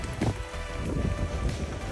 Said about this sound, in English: Cycling under the rain.